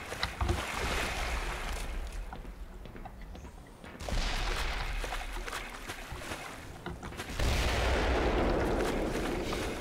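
Tank cannon fire from the Black Mesa video game, heavy booming blasts hitting at about 0 and 4 seconds and again near 7 seconds, each followed by a sustained loud rumbling roar, with no talking.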